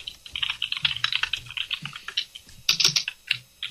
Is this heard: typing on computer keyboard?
yes